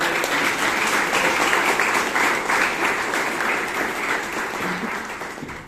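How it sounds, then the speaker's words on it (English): A Toastmasters meeting audience in Bangalore gives a round of applause for Taran, loud, steady clapping filling the room for several seconds before slowly tapering. "a big round of applause to Taran."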